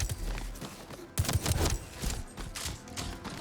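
SMG in Metal Eden firing in short rapid bursts, quiet and mechanical, with clustered sharp pops and brief pauses between the volleys, no talking over them.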